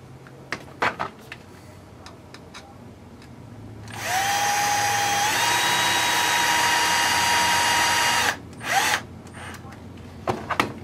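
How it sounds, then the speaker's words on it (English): A cordless power driver whirs steadily for about four seconds, then gives a short second burst, driving two screws into an Axial Yeti RC car being assembled on a workbench. "So now let's go ahead and put our two screws in there."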